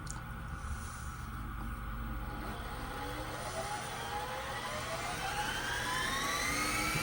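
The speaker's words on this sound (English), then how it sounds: "Do a high-speed fast forward." Sharp VC-H992 Hi-Fi VCR tape transport on high-speed fast forward, a steady motorized whir whose pitch keeps rising as the reels speed up, heard alone and close.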